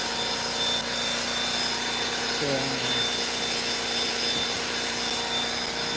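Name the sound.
vacuum cleaner cleaning car interior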